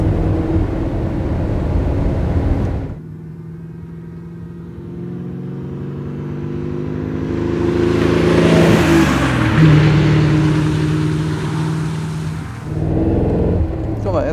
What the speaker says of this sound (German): Guck mal, jetzt geht's, wenn man jetzt schön beschleunigt.